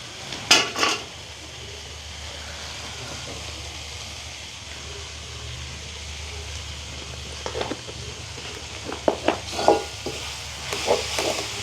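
Chopped leeks with turmeric powder stirred in a pan, with scattered spoon scrapes and clinks at the start and again toward the end over a low, steady background.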